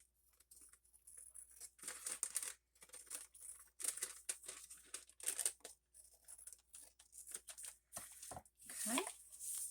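Scissors cutting paper for a window envelope flip pocket, close crisp snipping and rustling in short bursts with pauses between cuts.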